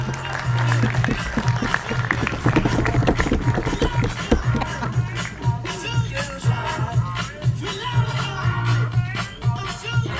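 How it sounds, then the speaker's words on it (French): Audience at an agricultural awards ceremony applauding the prize-winning group, sustained close clapping with crowd murmur and shuffling, plus a steady musical tone through much of it. "On les applaudit bien fort, s'il vous plaît, mesdames et messieurs"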